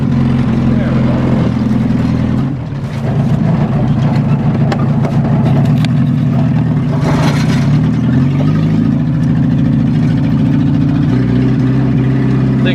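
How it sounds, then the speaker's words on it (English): A Ford Granada's engine runs loud and rough under load, its low mid-range note wavering and stumbling as though sputtering, with a brief dip early on before the strained engine sound continues steadily. "When it gets under load and you get wide open, she kind of sputters."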